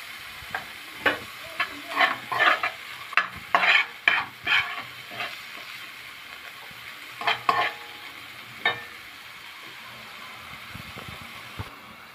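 Onion fries in oil in a pan with salt and cumin while a utensil stirs it, giving a series of sharp scraping and sizzling bursts over a quiet steady hiss, with no talking.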